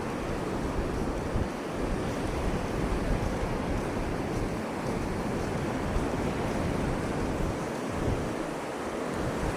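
Waves crash and surf roars continuously nearby at a sea cave, a steady wash of water with wind noise and no voices.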